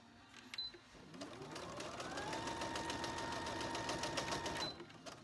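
A domestic sewing machine stitches steadily along an existing stitch line on fabric for a plus-size tween girl's top, its motor whirring in a continuous even run of rapid needle strokes that ramps up, holds, then stops, close and alone.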